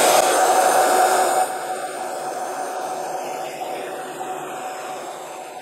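A hot air gun shrinking heat shrink tubing over wire blows as a steady hiss of airflow, close and constant, dropping slightly in level partway through.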